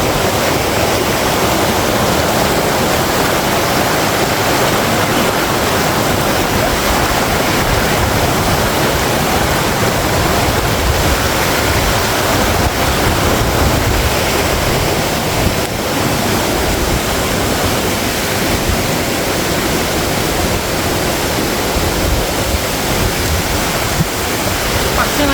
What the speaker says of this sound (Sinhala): එතන මේ මාකියා දෙනිය ඇල්ල